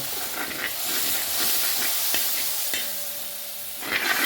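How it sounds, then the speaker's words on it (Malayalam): Kudampuli (Malabar tamarind) water is poured into fish curry in an uruli pot, which answers with a loud, close, steady sizzle and hiss and a few brief stirring clinks. "ഇതേപോലെ റെഡിയാക്കി വെച്ചേർന്ന കുടംപുളിയുടെ വെള്ളവും പുളിയും കൂടിയാണ് ആഡ് ചെയ്ത് കൊടുക്കുകയാണ്"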